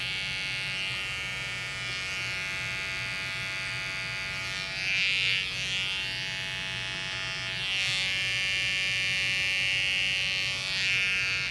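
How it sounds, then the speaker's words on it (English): A Wahl 5-Star Detailer trimmer buzzes steadily and close up as it cuts a part into a client's eyebrow at a barber competition, a continuous electric hum that swells slightly in a few places as the blade meets hair. "Using my Wahl 5-star detailer trimmer, we were able to get that part in the eyebrow."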